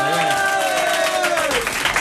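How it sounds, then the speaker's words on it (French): A studio audience on a French television talk show breaks into applause, a dense wash of clapping that swells after a voice speaks over its start. "Ça vous embête si on applaudit Nicolas Vanier?"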